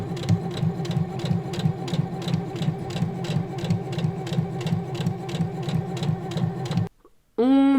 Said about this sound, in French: il va falloir que je resurpique pour coudre directement en fait à l'avant en fait de ma salopette